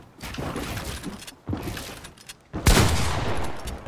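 Rapid video game gunfire during a fight with a pickaxe-wielding opponent: dense, continuous bursts of crackling shots in three waves, the last loudest and sharpest, with no talking.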